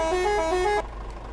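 Horn of a fuel tanker truck in a Roblox driving game set in Ankara city traffic: one loud, steady blaring blast held for nearly a second, then cut off, leaving a quiet low hum behind.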